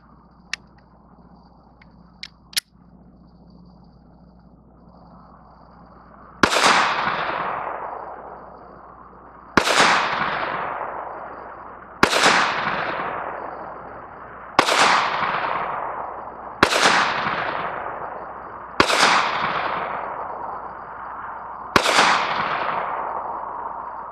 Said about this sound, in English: I'm going to go ahead and shoot this one now,